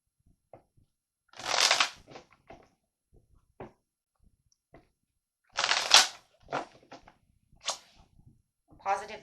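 Tarot cards being shuffled by hand in two loud riffling bursts separated by quiet taps and card handling, close and dry.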